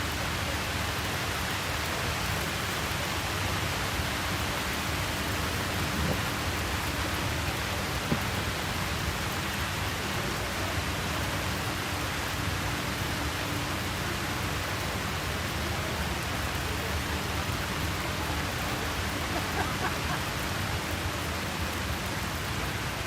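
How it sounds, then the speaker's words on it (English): Steady rain falls on an outdoor quadball field during a championship match, making a continuous, even hiss of drops with no break and no voices over it. "Rain continuing to fall"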